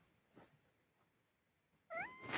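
Near-silence with faint rustles, then a cat lets out a sudden, loud meow near the end.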